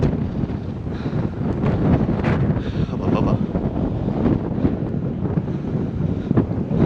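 Strong wind buffets the microphone in continuous low rumbling gusts near East Lomond Hill, Scotland, loud and close, with no voices.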